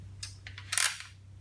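Mechanical clicks and a ratcheting clack as the action of a Savage A22R lever release .22 rifle with a rotary 10-round magazine is cleared, a few sharp close metallic snaps over a low steady hum.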